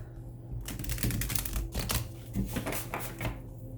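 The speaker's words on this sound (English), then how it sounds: "So I'm going to shuffle these cards." Rapid papery riffling and clicking of tarot cards being shuffled close by, in quick bursts over a low hum.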